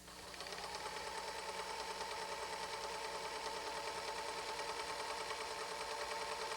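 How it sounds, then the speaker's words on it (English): A Kenmore 16633 serger/overlock machine stitches a fabric seam, its motor running in a steady, fast, even whir with rapid needle chatter that starts at once and holds at a constant level throughout, with no talk. "keep the foot control depressed and continue sewing, pulling the fabric out to the rear of the overlock"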